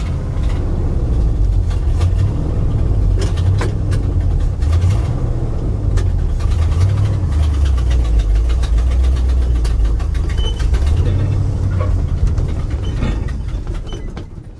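An International 1110 truck engine idles roughly and unevenly up close, loud and steady with a wavering low rumble that swells and sags throughout, and no voices.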